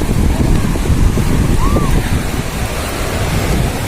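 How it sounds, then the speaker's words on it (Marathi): Steady roar of surf washing onto Vetye Beach near Ratnagiri on the Konkan coast, with broad rushing wash and wind buffeting the microphone throughout. "लाट पायापर्यंत आली"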